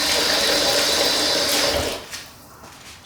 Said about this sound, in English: I'm keep on like washing my towel over here